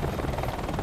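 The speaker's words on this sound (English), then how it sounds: "It's a chopper." A helicopter in Call of Duty: Advanced Warfare, a steady loud rotor chop with rapid even beating that fills the whole moment, with no speech over it.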